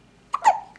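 A young boy's hiccup, one sharp close squeak-like catch followed by a brief breathy tail, alone in a quiet room.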